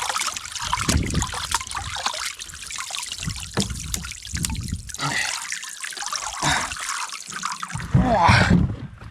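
Water trickling and dripping off a person and gear in a wilderness canoe camp, a steady close splashing dribble throughout that swells louder near the end.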